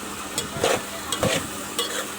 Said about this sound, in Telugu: అల్లం వెల్లుల్లి పేస్ట్ వేసిన తర్వాత ఈ విధంగా బాగా కలుపుకొని